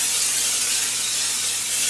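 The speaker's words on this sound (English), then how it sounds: "we're just going to spray some of this olive oil spray." Olive oil cooking spray hisses steadily into a lightweight pot, one continuous close burst with no pause or talking.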